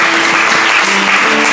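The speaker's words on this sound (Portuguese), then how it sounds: "Pode aplaudir bem forte o nome do Senhor." A church congregation applauds loudly and steadily, a dense wash of clapping filling the whole moment, with a faint tone lingering beneath.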